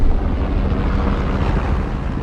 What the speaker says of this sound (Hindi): एनीवे हेलीकॉप्टर लैंड करो।